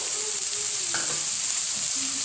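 Carrot being stir-fried in a hot pan with a steady, dense sizzle and a faint scrape of stirring, no voices.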